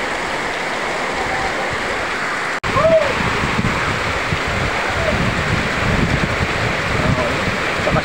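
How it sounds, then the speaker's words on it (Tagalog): Heavy rain and rushing floodwater during the biggest flood in Barangay Cag-abaca, November 2023, form a loud, steady roar that fills the whole clip, broken by a brief dropout early on, with faint voices now and then. "Sakas pa rin ang ulan."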